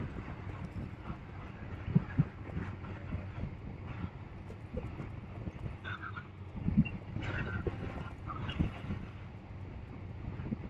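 Roach the horse galloping in The Witcher 3, rhythmic hoofbeats over rough ground with a soft snort or whinny, steady and fairly close under quiet game ambience.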